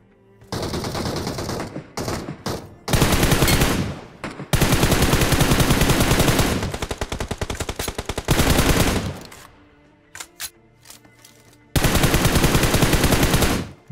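Bursts of video game gunfire from an enemy player, loud rapid automatic volleys separated by brief pauses, with several long sustained streams of shots; no talking.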